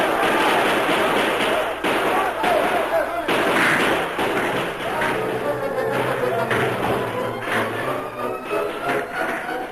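Rifle gunfire from a radio drama battle scene, a dense run of loud, overlapping shots and thuds sustained across the whole stretch, with voices mixed into the clamor.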